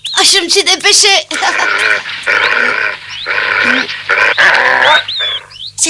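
A cartoon dog gives a rapid series of excited yelps and grunting barks in loud, close bursts with short pauses between them, mixed with squeaky animated vocal sounds.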